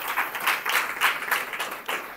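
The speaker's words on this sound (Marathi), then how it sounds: "टाळ्या वाजून देवाला धन्यवाद देऊ" A church congregation claps in rhythmic bursts of several beats, fairly close and even, with no speech over the applause.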